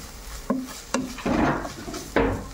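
A utensil stirs and scrapes a garbanzo dish in a pot, producing several sharp clinks and knocks against the metal between longer rubbing, stirring passes, close and fairly loud with no talk.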